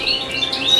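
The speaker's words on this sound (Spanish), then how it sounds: "Mira cómo los tengo los pajaritos" Small cage birds chirp and tweet in quick, bright, overlapping calls close by, loud and continuous without any talk.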